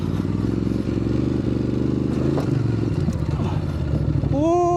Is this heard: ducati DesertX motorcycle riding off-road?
yes